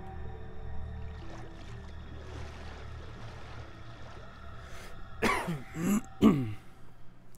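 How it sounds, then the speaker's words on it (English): A few throaty coughs and throat clearing, two sharp bursts close together near the end over a quiet low background hum, no talking. "Yeah, I still had the coffee coughs."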